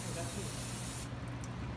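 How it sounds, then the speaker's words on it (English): Brake cleaner sprays in a steady, loud hiss onto a rusted brake rotor, the aerosol jet running continuously and cutting out partway through, with low rumbling in the background. "Spray the rotor with brake cleaner."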